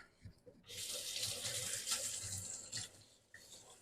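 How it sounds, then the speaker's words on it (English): Water runs from a kitchen tap as a dish is rinsed under it, a steady close hiss lasting about two seconds with splashing changes, then cutting off. "I'm going to rinse that off"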